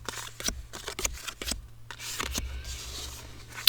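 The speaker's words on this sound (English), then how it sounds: "shuffle the cards, and then one by one, I'll deal out the cards amongst the 2 players" Quiet, close handling of Top Trumps cards: a series of soft riffling snaps and flicks as cards are shuffled and dealt one at a time to two players.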